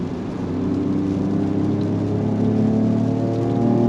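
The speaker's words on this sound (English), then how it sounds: "So as you can hear, even the exhaust has changed." A steady, droning exhaust note from a 2022 Ford Ranger Raptor pickup truck, with a low tonal hum holding at constant loudness throughout, heard from inside or near the vehicle.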